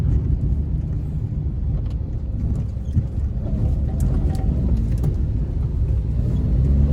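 A Maruti Alto LXI hatchback drives along a narrow road with a steady engine and road rumble, close up and continuous, with occasional faint clicks.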